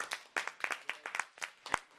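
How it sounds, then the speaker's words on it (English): A small group gives brief, sparse applause after an Ohio EPA session, individual claps distinct and fairly quiet, lasting a couple of seconds. "Please give him a round of applause."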